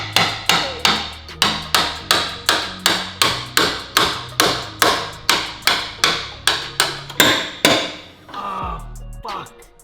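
A hammer strikes a chisel in a steady, loud run of about twenty evenly spaced metallic blows while work proceeds on an engine swap, followed by a brief scraping rattle and a couple more hits.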